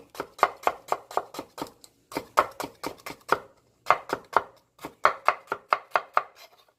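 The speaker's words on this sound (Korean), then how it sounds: "당근을 얇게 채 썰겠습니다." Knife julienning a carrot on a cutting board: rapid, evenly spaced chopping taps in several quick bursts with short pauses, close and crisp, no talking.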